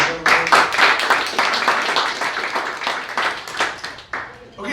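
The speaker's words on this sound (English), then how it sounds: "Another round of applause for" Audience applause for a speaker at a cannabis-themed panel event, a dense run of clapping that starts strong and gradually thins toward the end, with voices mixed in among the claps.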